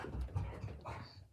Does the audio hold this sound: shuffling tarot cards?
no